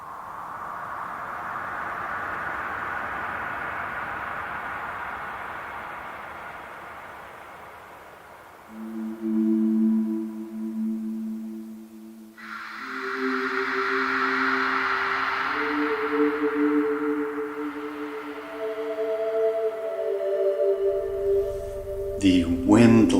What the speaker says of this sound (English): The wind-like whooshes of sound that you hear in that section are the sound of me blowing into a microphone in my studio